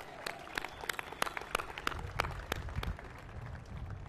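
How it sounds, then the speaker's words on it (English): An audience applauds the mayor at the Audi Field ribbon cutting in Washington, with moderately quiet, scattered, irregular claps rather than a dense ovation. "Let's give her another big round of applause."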